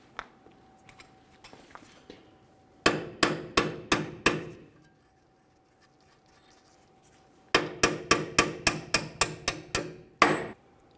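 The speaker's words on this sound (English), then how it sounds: "We'll drive the bolt up and out of here" Sharp metal hammer blows drive a bolt out of a rear knuckle on a 2002-2005 Ford Explorer, arriving in quick ringing runs of several strikes with a pause between groups.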